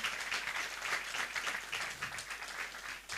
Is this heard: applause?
yes